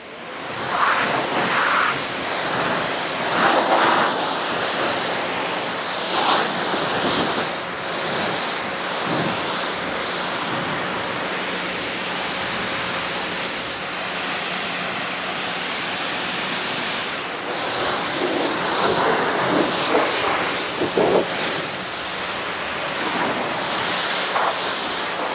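A steady, loud rush of water spray hisses without a break as a car is rinsed off before washing. The broadband spray carries on throughout with slight swells, and no one speaks.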